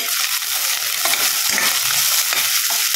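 Onions and green chillies frying in plenty of oil in a pan for a mutton liver recipe, a loud continuous sizzle with stirring scrapes and small bursts throughout, no voices.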